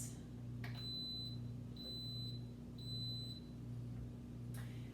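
An Instant Pot pressure cooker gives three short, high electronic beeps evenly spaced as it is set, over a steady low appliance hum.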